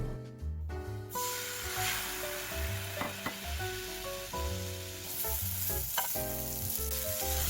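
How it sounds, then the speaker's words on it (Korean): Pasta stir-fried in a pan with pasta water and pecorino romano cheese sauce, a steady loud sizzle and hiss throughout with intermittent scraping and clinking of stirring utensils, no speech. "면수 반컵을 붓고 볶다가 준비해둔 페코리노 로마노 치즈 소스를 붓고 같이 섞어주면서 조금만 더 익혀주면 완성이에요."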